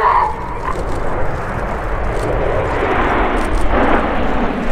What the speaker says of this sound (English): the smoke is about to come on for the Typhoon roll.